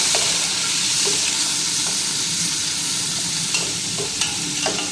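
Onions sizzling in hot oil with garam masala for a Tamil Nadu–style biryani, a steady loud frying hiss with occasional scrape and stir clicks, no talk.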